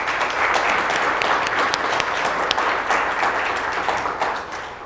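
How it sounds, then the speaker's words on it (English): An audience at a Louisiana progress event applauds in a dense, sustained burst of clapping that stays loud and even before tapering slightly at the end. "So please give them a round of applause."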